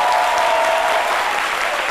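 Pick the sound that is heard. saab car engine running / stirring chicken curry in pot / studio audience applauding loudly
studio audience applauding loudly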